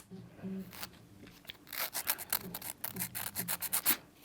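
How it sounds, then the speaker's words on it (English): Fingernails being filed into shape during an at-home gel manicure, a quiet rapid rasping in short bursts, sparse at first and then denser strokes, close up. "I'm done filing."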